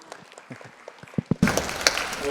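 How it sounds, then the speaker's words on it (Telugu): A burst of applause from a crowd at an Arangetram dance recital starts partway through, preceded by scattered quieter sounds, then continues steadily at moderate loudness. "తనీషా, అనిషా మీరు గట్టిగా చప్పట్లు కొట్టాలి ఫర్ యువర్ స్కూల్."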